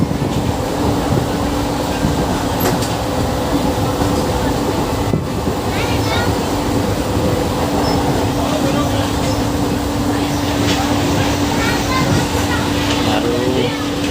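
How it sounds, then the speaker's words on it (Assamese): Steady rumble and rattle inside a moving passenger train on the way to Tihu on a rainy day, continuous and fairly loud throughout, with faint voices of passengers in the carriage. "এয়া ট্ৰেইনৰ ভিতৰৰ পৰিৱেশ মই দেখুৱাই দিছোঁ"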